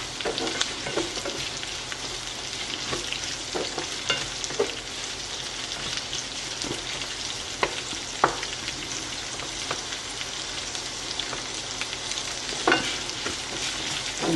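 Onions fry in a pan with a steady, close sizzle, punctuated by occasional light clicks and scrapes of stirring, with no talking.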